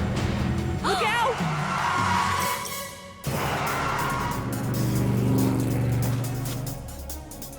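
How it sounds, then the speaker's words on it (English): A cartoon sports car speeds past with squealing tires and a rising engine rush, loud and close, then the roar of the motor continues under a busy soundtrack with no talking. "whoever's driving that sports car is pretty brave"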